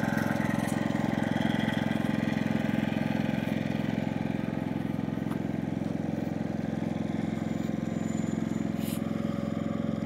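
A Harbor Freight Predator 5000 portable generator engine runs steadily at a constant drone, heard close by from the exhaust side and moderately loud, with no talking.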